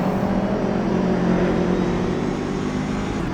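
A steady, loud engine drone from a race car in Automobilista 2 at the historic Kyalami circuit, 1976 layout, holding a high sustained pitch with no voices.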